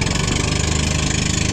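A boat's engine idles steadily at close range, a continuous low mechanical hum with a regular chugging pulse and no talk over it.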